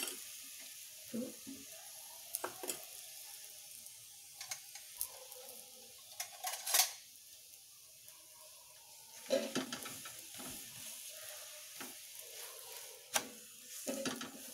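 A vegetable paratha cooks in ghee on a griddle over low heat, giving a faint, steady sizzle broken by occasional taps and pressing sounds from a spatula.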